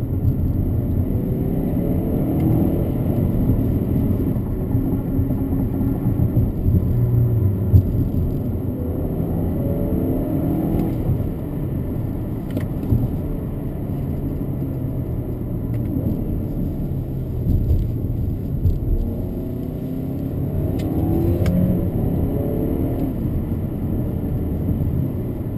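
A 2018 B9 Audi A4 Quattro accelerates on a wet road, heard from inside the cabin as a steady low engine drone and road rumble with a few mild swells, with no talking.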